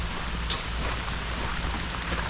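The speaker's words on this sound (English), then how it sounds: "And it's raining." Steady rain falls at a campground at Chippokes State Park, a dense, even patter with a low rumble beneath and no voices.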